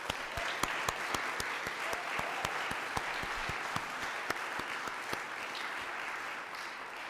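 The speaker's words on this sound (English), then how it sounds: "thank you for that applause for them" Sustained applause from a church congregation at a Sunday service, steady clapping filling the room with occasional sharper claps standing out, no voices heard.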